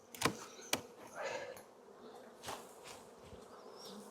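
Honey bees buzzing faintly in an open hive, a soft, steady drone with a few brief close knocks and rustles near the start.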